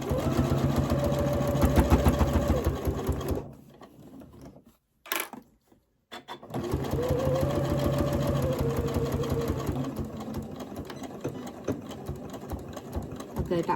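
A sewing machine runs steadily while stitching a small fabric bean bag toy, a close mechanical whir that stops briefly in the middle and then resumes at an even pace.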